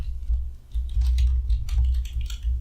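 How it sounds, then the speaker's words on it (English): Fingers tap quickly on a computer keyboard, producing a busy run of close clicks over a steady low hum, with no talking. "Get my fingers on the keyboard properly."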